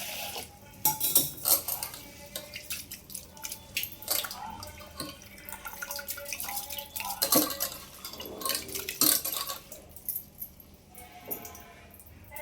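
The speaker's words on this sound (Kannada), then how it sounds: "ಇವಾಗ ನೀರು ಹಾಕಿಬಿಟ್ಟು ತೊಳ್ಕೊಂತೀನಿ ನೋಡಿ" Rice and lentils are rinsed and swished in water in a metal pot, with clinks against the sides and splashing in irregular bursts, close up and with no talking.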